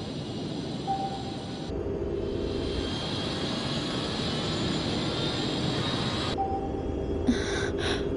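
A submarine's engine drones in a low, steady mechanical hum from the Ultraman Mebius series; its tone shifts partway through as the engine sound changes, with faint higher whines layered over the rumble and no voices.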